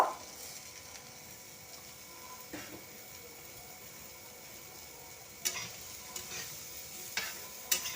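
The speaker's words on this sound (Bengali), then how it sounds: "দিয়ে আবারও আমি একটু ভেজে নেব।" Chopped tomato frying in a pan for a cauliflower curry, a faint steady sizzle with a few sharp scrapes of stirring near the end, no talk.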